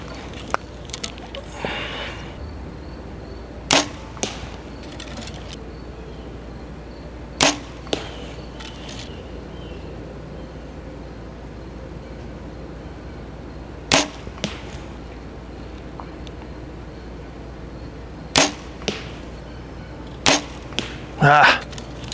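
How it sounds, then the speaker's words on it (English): Arrows from a PSE Mach 33 compound bow strike a target downrange in sharp, isolated thwacks, about eight hits spaced several seconds apart with a quick double near the end, over quiet outdoor background. "We're shooting at this dead nuts target down there."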